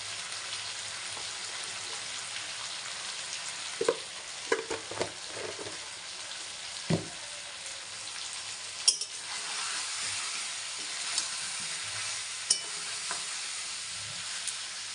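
Meat sizzles and fries steadily in a pan with turmeric while a utensil scrapes and clinks through it in irregular strokes, a continuous close hiss with no talking.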